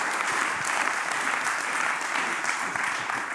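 Warm audience applause for a speaker at a data visualization talk in Amsterdam, dense, even clapping from a full room lasting a few seconds.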